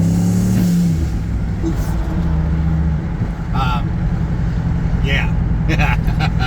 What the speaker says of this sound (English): right now it's nice and quiet because we're going through the muffler